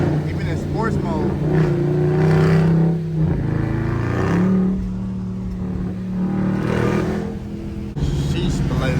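A 500-horsepower SRT Jeep accelerating on a rainy road, its engine droning and rising in pitch as the wheels spin, heard from inside the cabin with someone talking over it.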